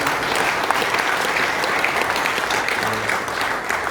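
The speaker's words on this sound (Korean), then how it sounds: "모든 분들에게 한 번 감사와 경의 마음을 담아 한번 큰 박수로 경례드립니다" Church mission board general assembly audience gives a big round of applause in thanks to missionaries, a thick continuous clapping from a large crowd filling the room throughout.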